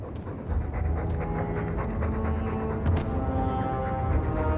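A dog in Dragon Age 2 pants rapidly and rhythmically, close and steady, over a constant bed of game background sound.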